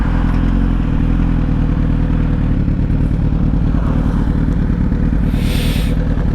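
A Suzuki GSX-R1000 motorcycle engine runs loud and steady from close by, a continuous rumbling drone with light mechanical clatter and no talk.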